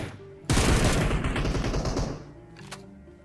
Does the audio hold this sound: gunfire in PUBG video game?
yes